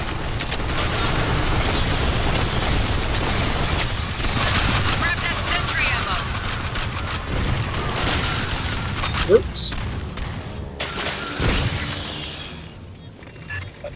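Sustained gunfire from a squad battling waves of aliens in Aliens: Fireteam Elite on Extreme difficulty, dense and continuous, with a couple of louder bangs late on and people talking over it.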